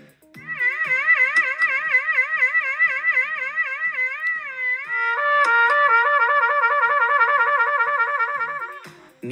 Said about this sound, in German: wie technisch richtig gespielte Bindungen zuerst auf dem Mundstück und danach auf der Trompete klingen